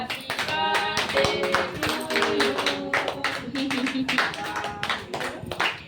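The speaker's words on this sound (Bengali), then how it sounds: "এবার সব হাততালি দাও, হ্যাপি বার্থডে বলো।" Children and adults clap their hands at a birthday party, a dense run of quick claps that continues throughout, with voices mixed in.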